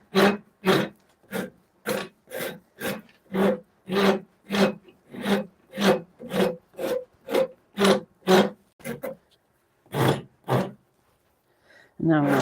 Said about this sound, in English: Now I'm going to switch to the not so aggressive side of the rasp